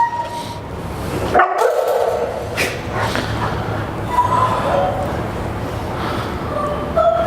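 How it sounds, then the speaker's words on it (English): Several dogs barking and yipping in kennels, giving a steady dense chorus of overlapping barks with someone talking over it. "is the arousal being created by the barrier or is the arousal being created by the dog"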